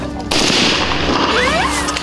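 Sharp blasts and gunfire ring out during military training, beginning abruptly with a loud burst and continuing as a dense, sustained crackle of shots nearby.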